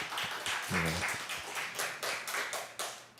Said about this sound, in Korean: 하나님 앞에 영광의 박수를 한번 돌리십시다